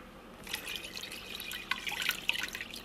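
Cold water pouring and splashing into a container over cornstarch, a steady close trickle that grows a little busier toward the end.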